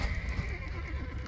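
A horse neighs amid the battle noise of an Age of Empires II match with horse archers, a whinny over a steady low rumble of game ambience and faint hoof clatter, with no talk over it.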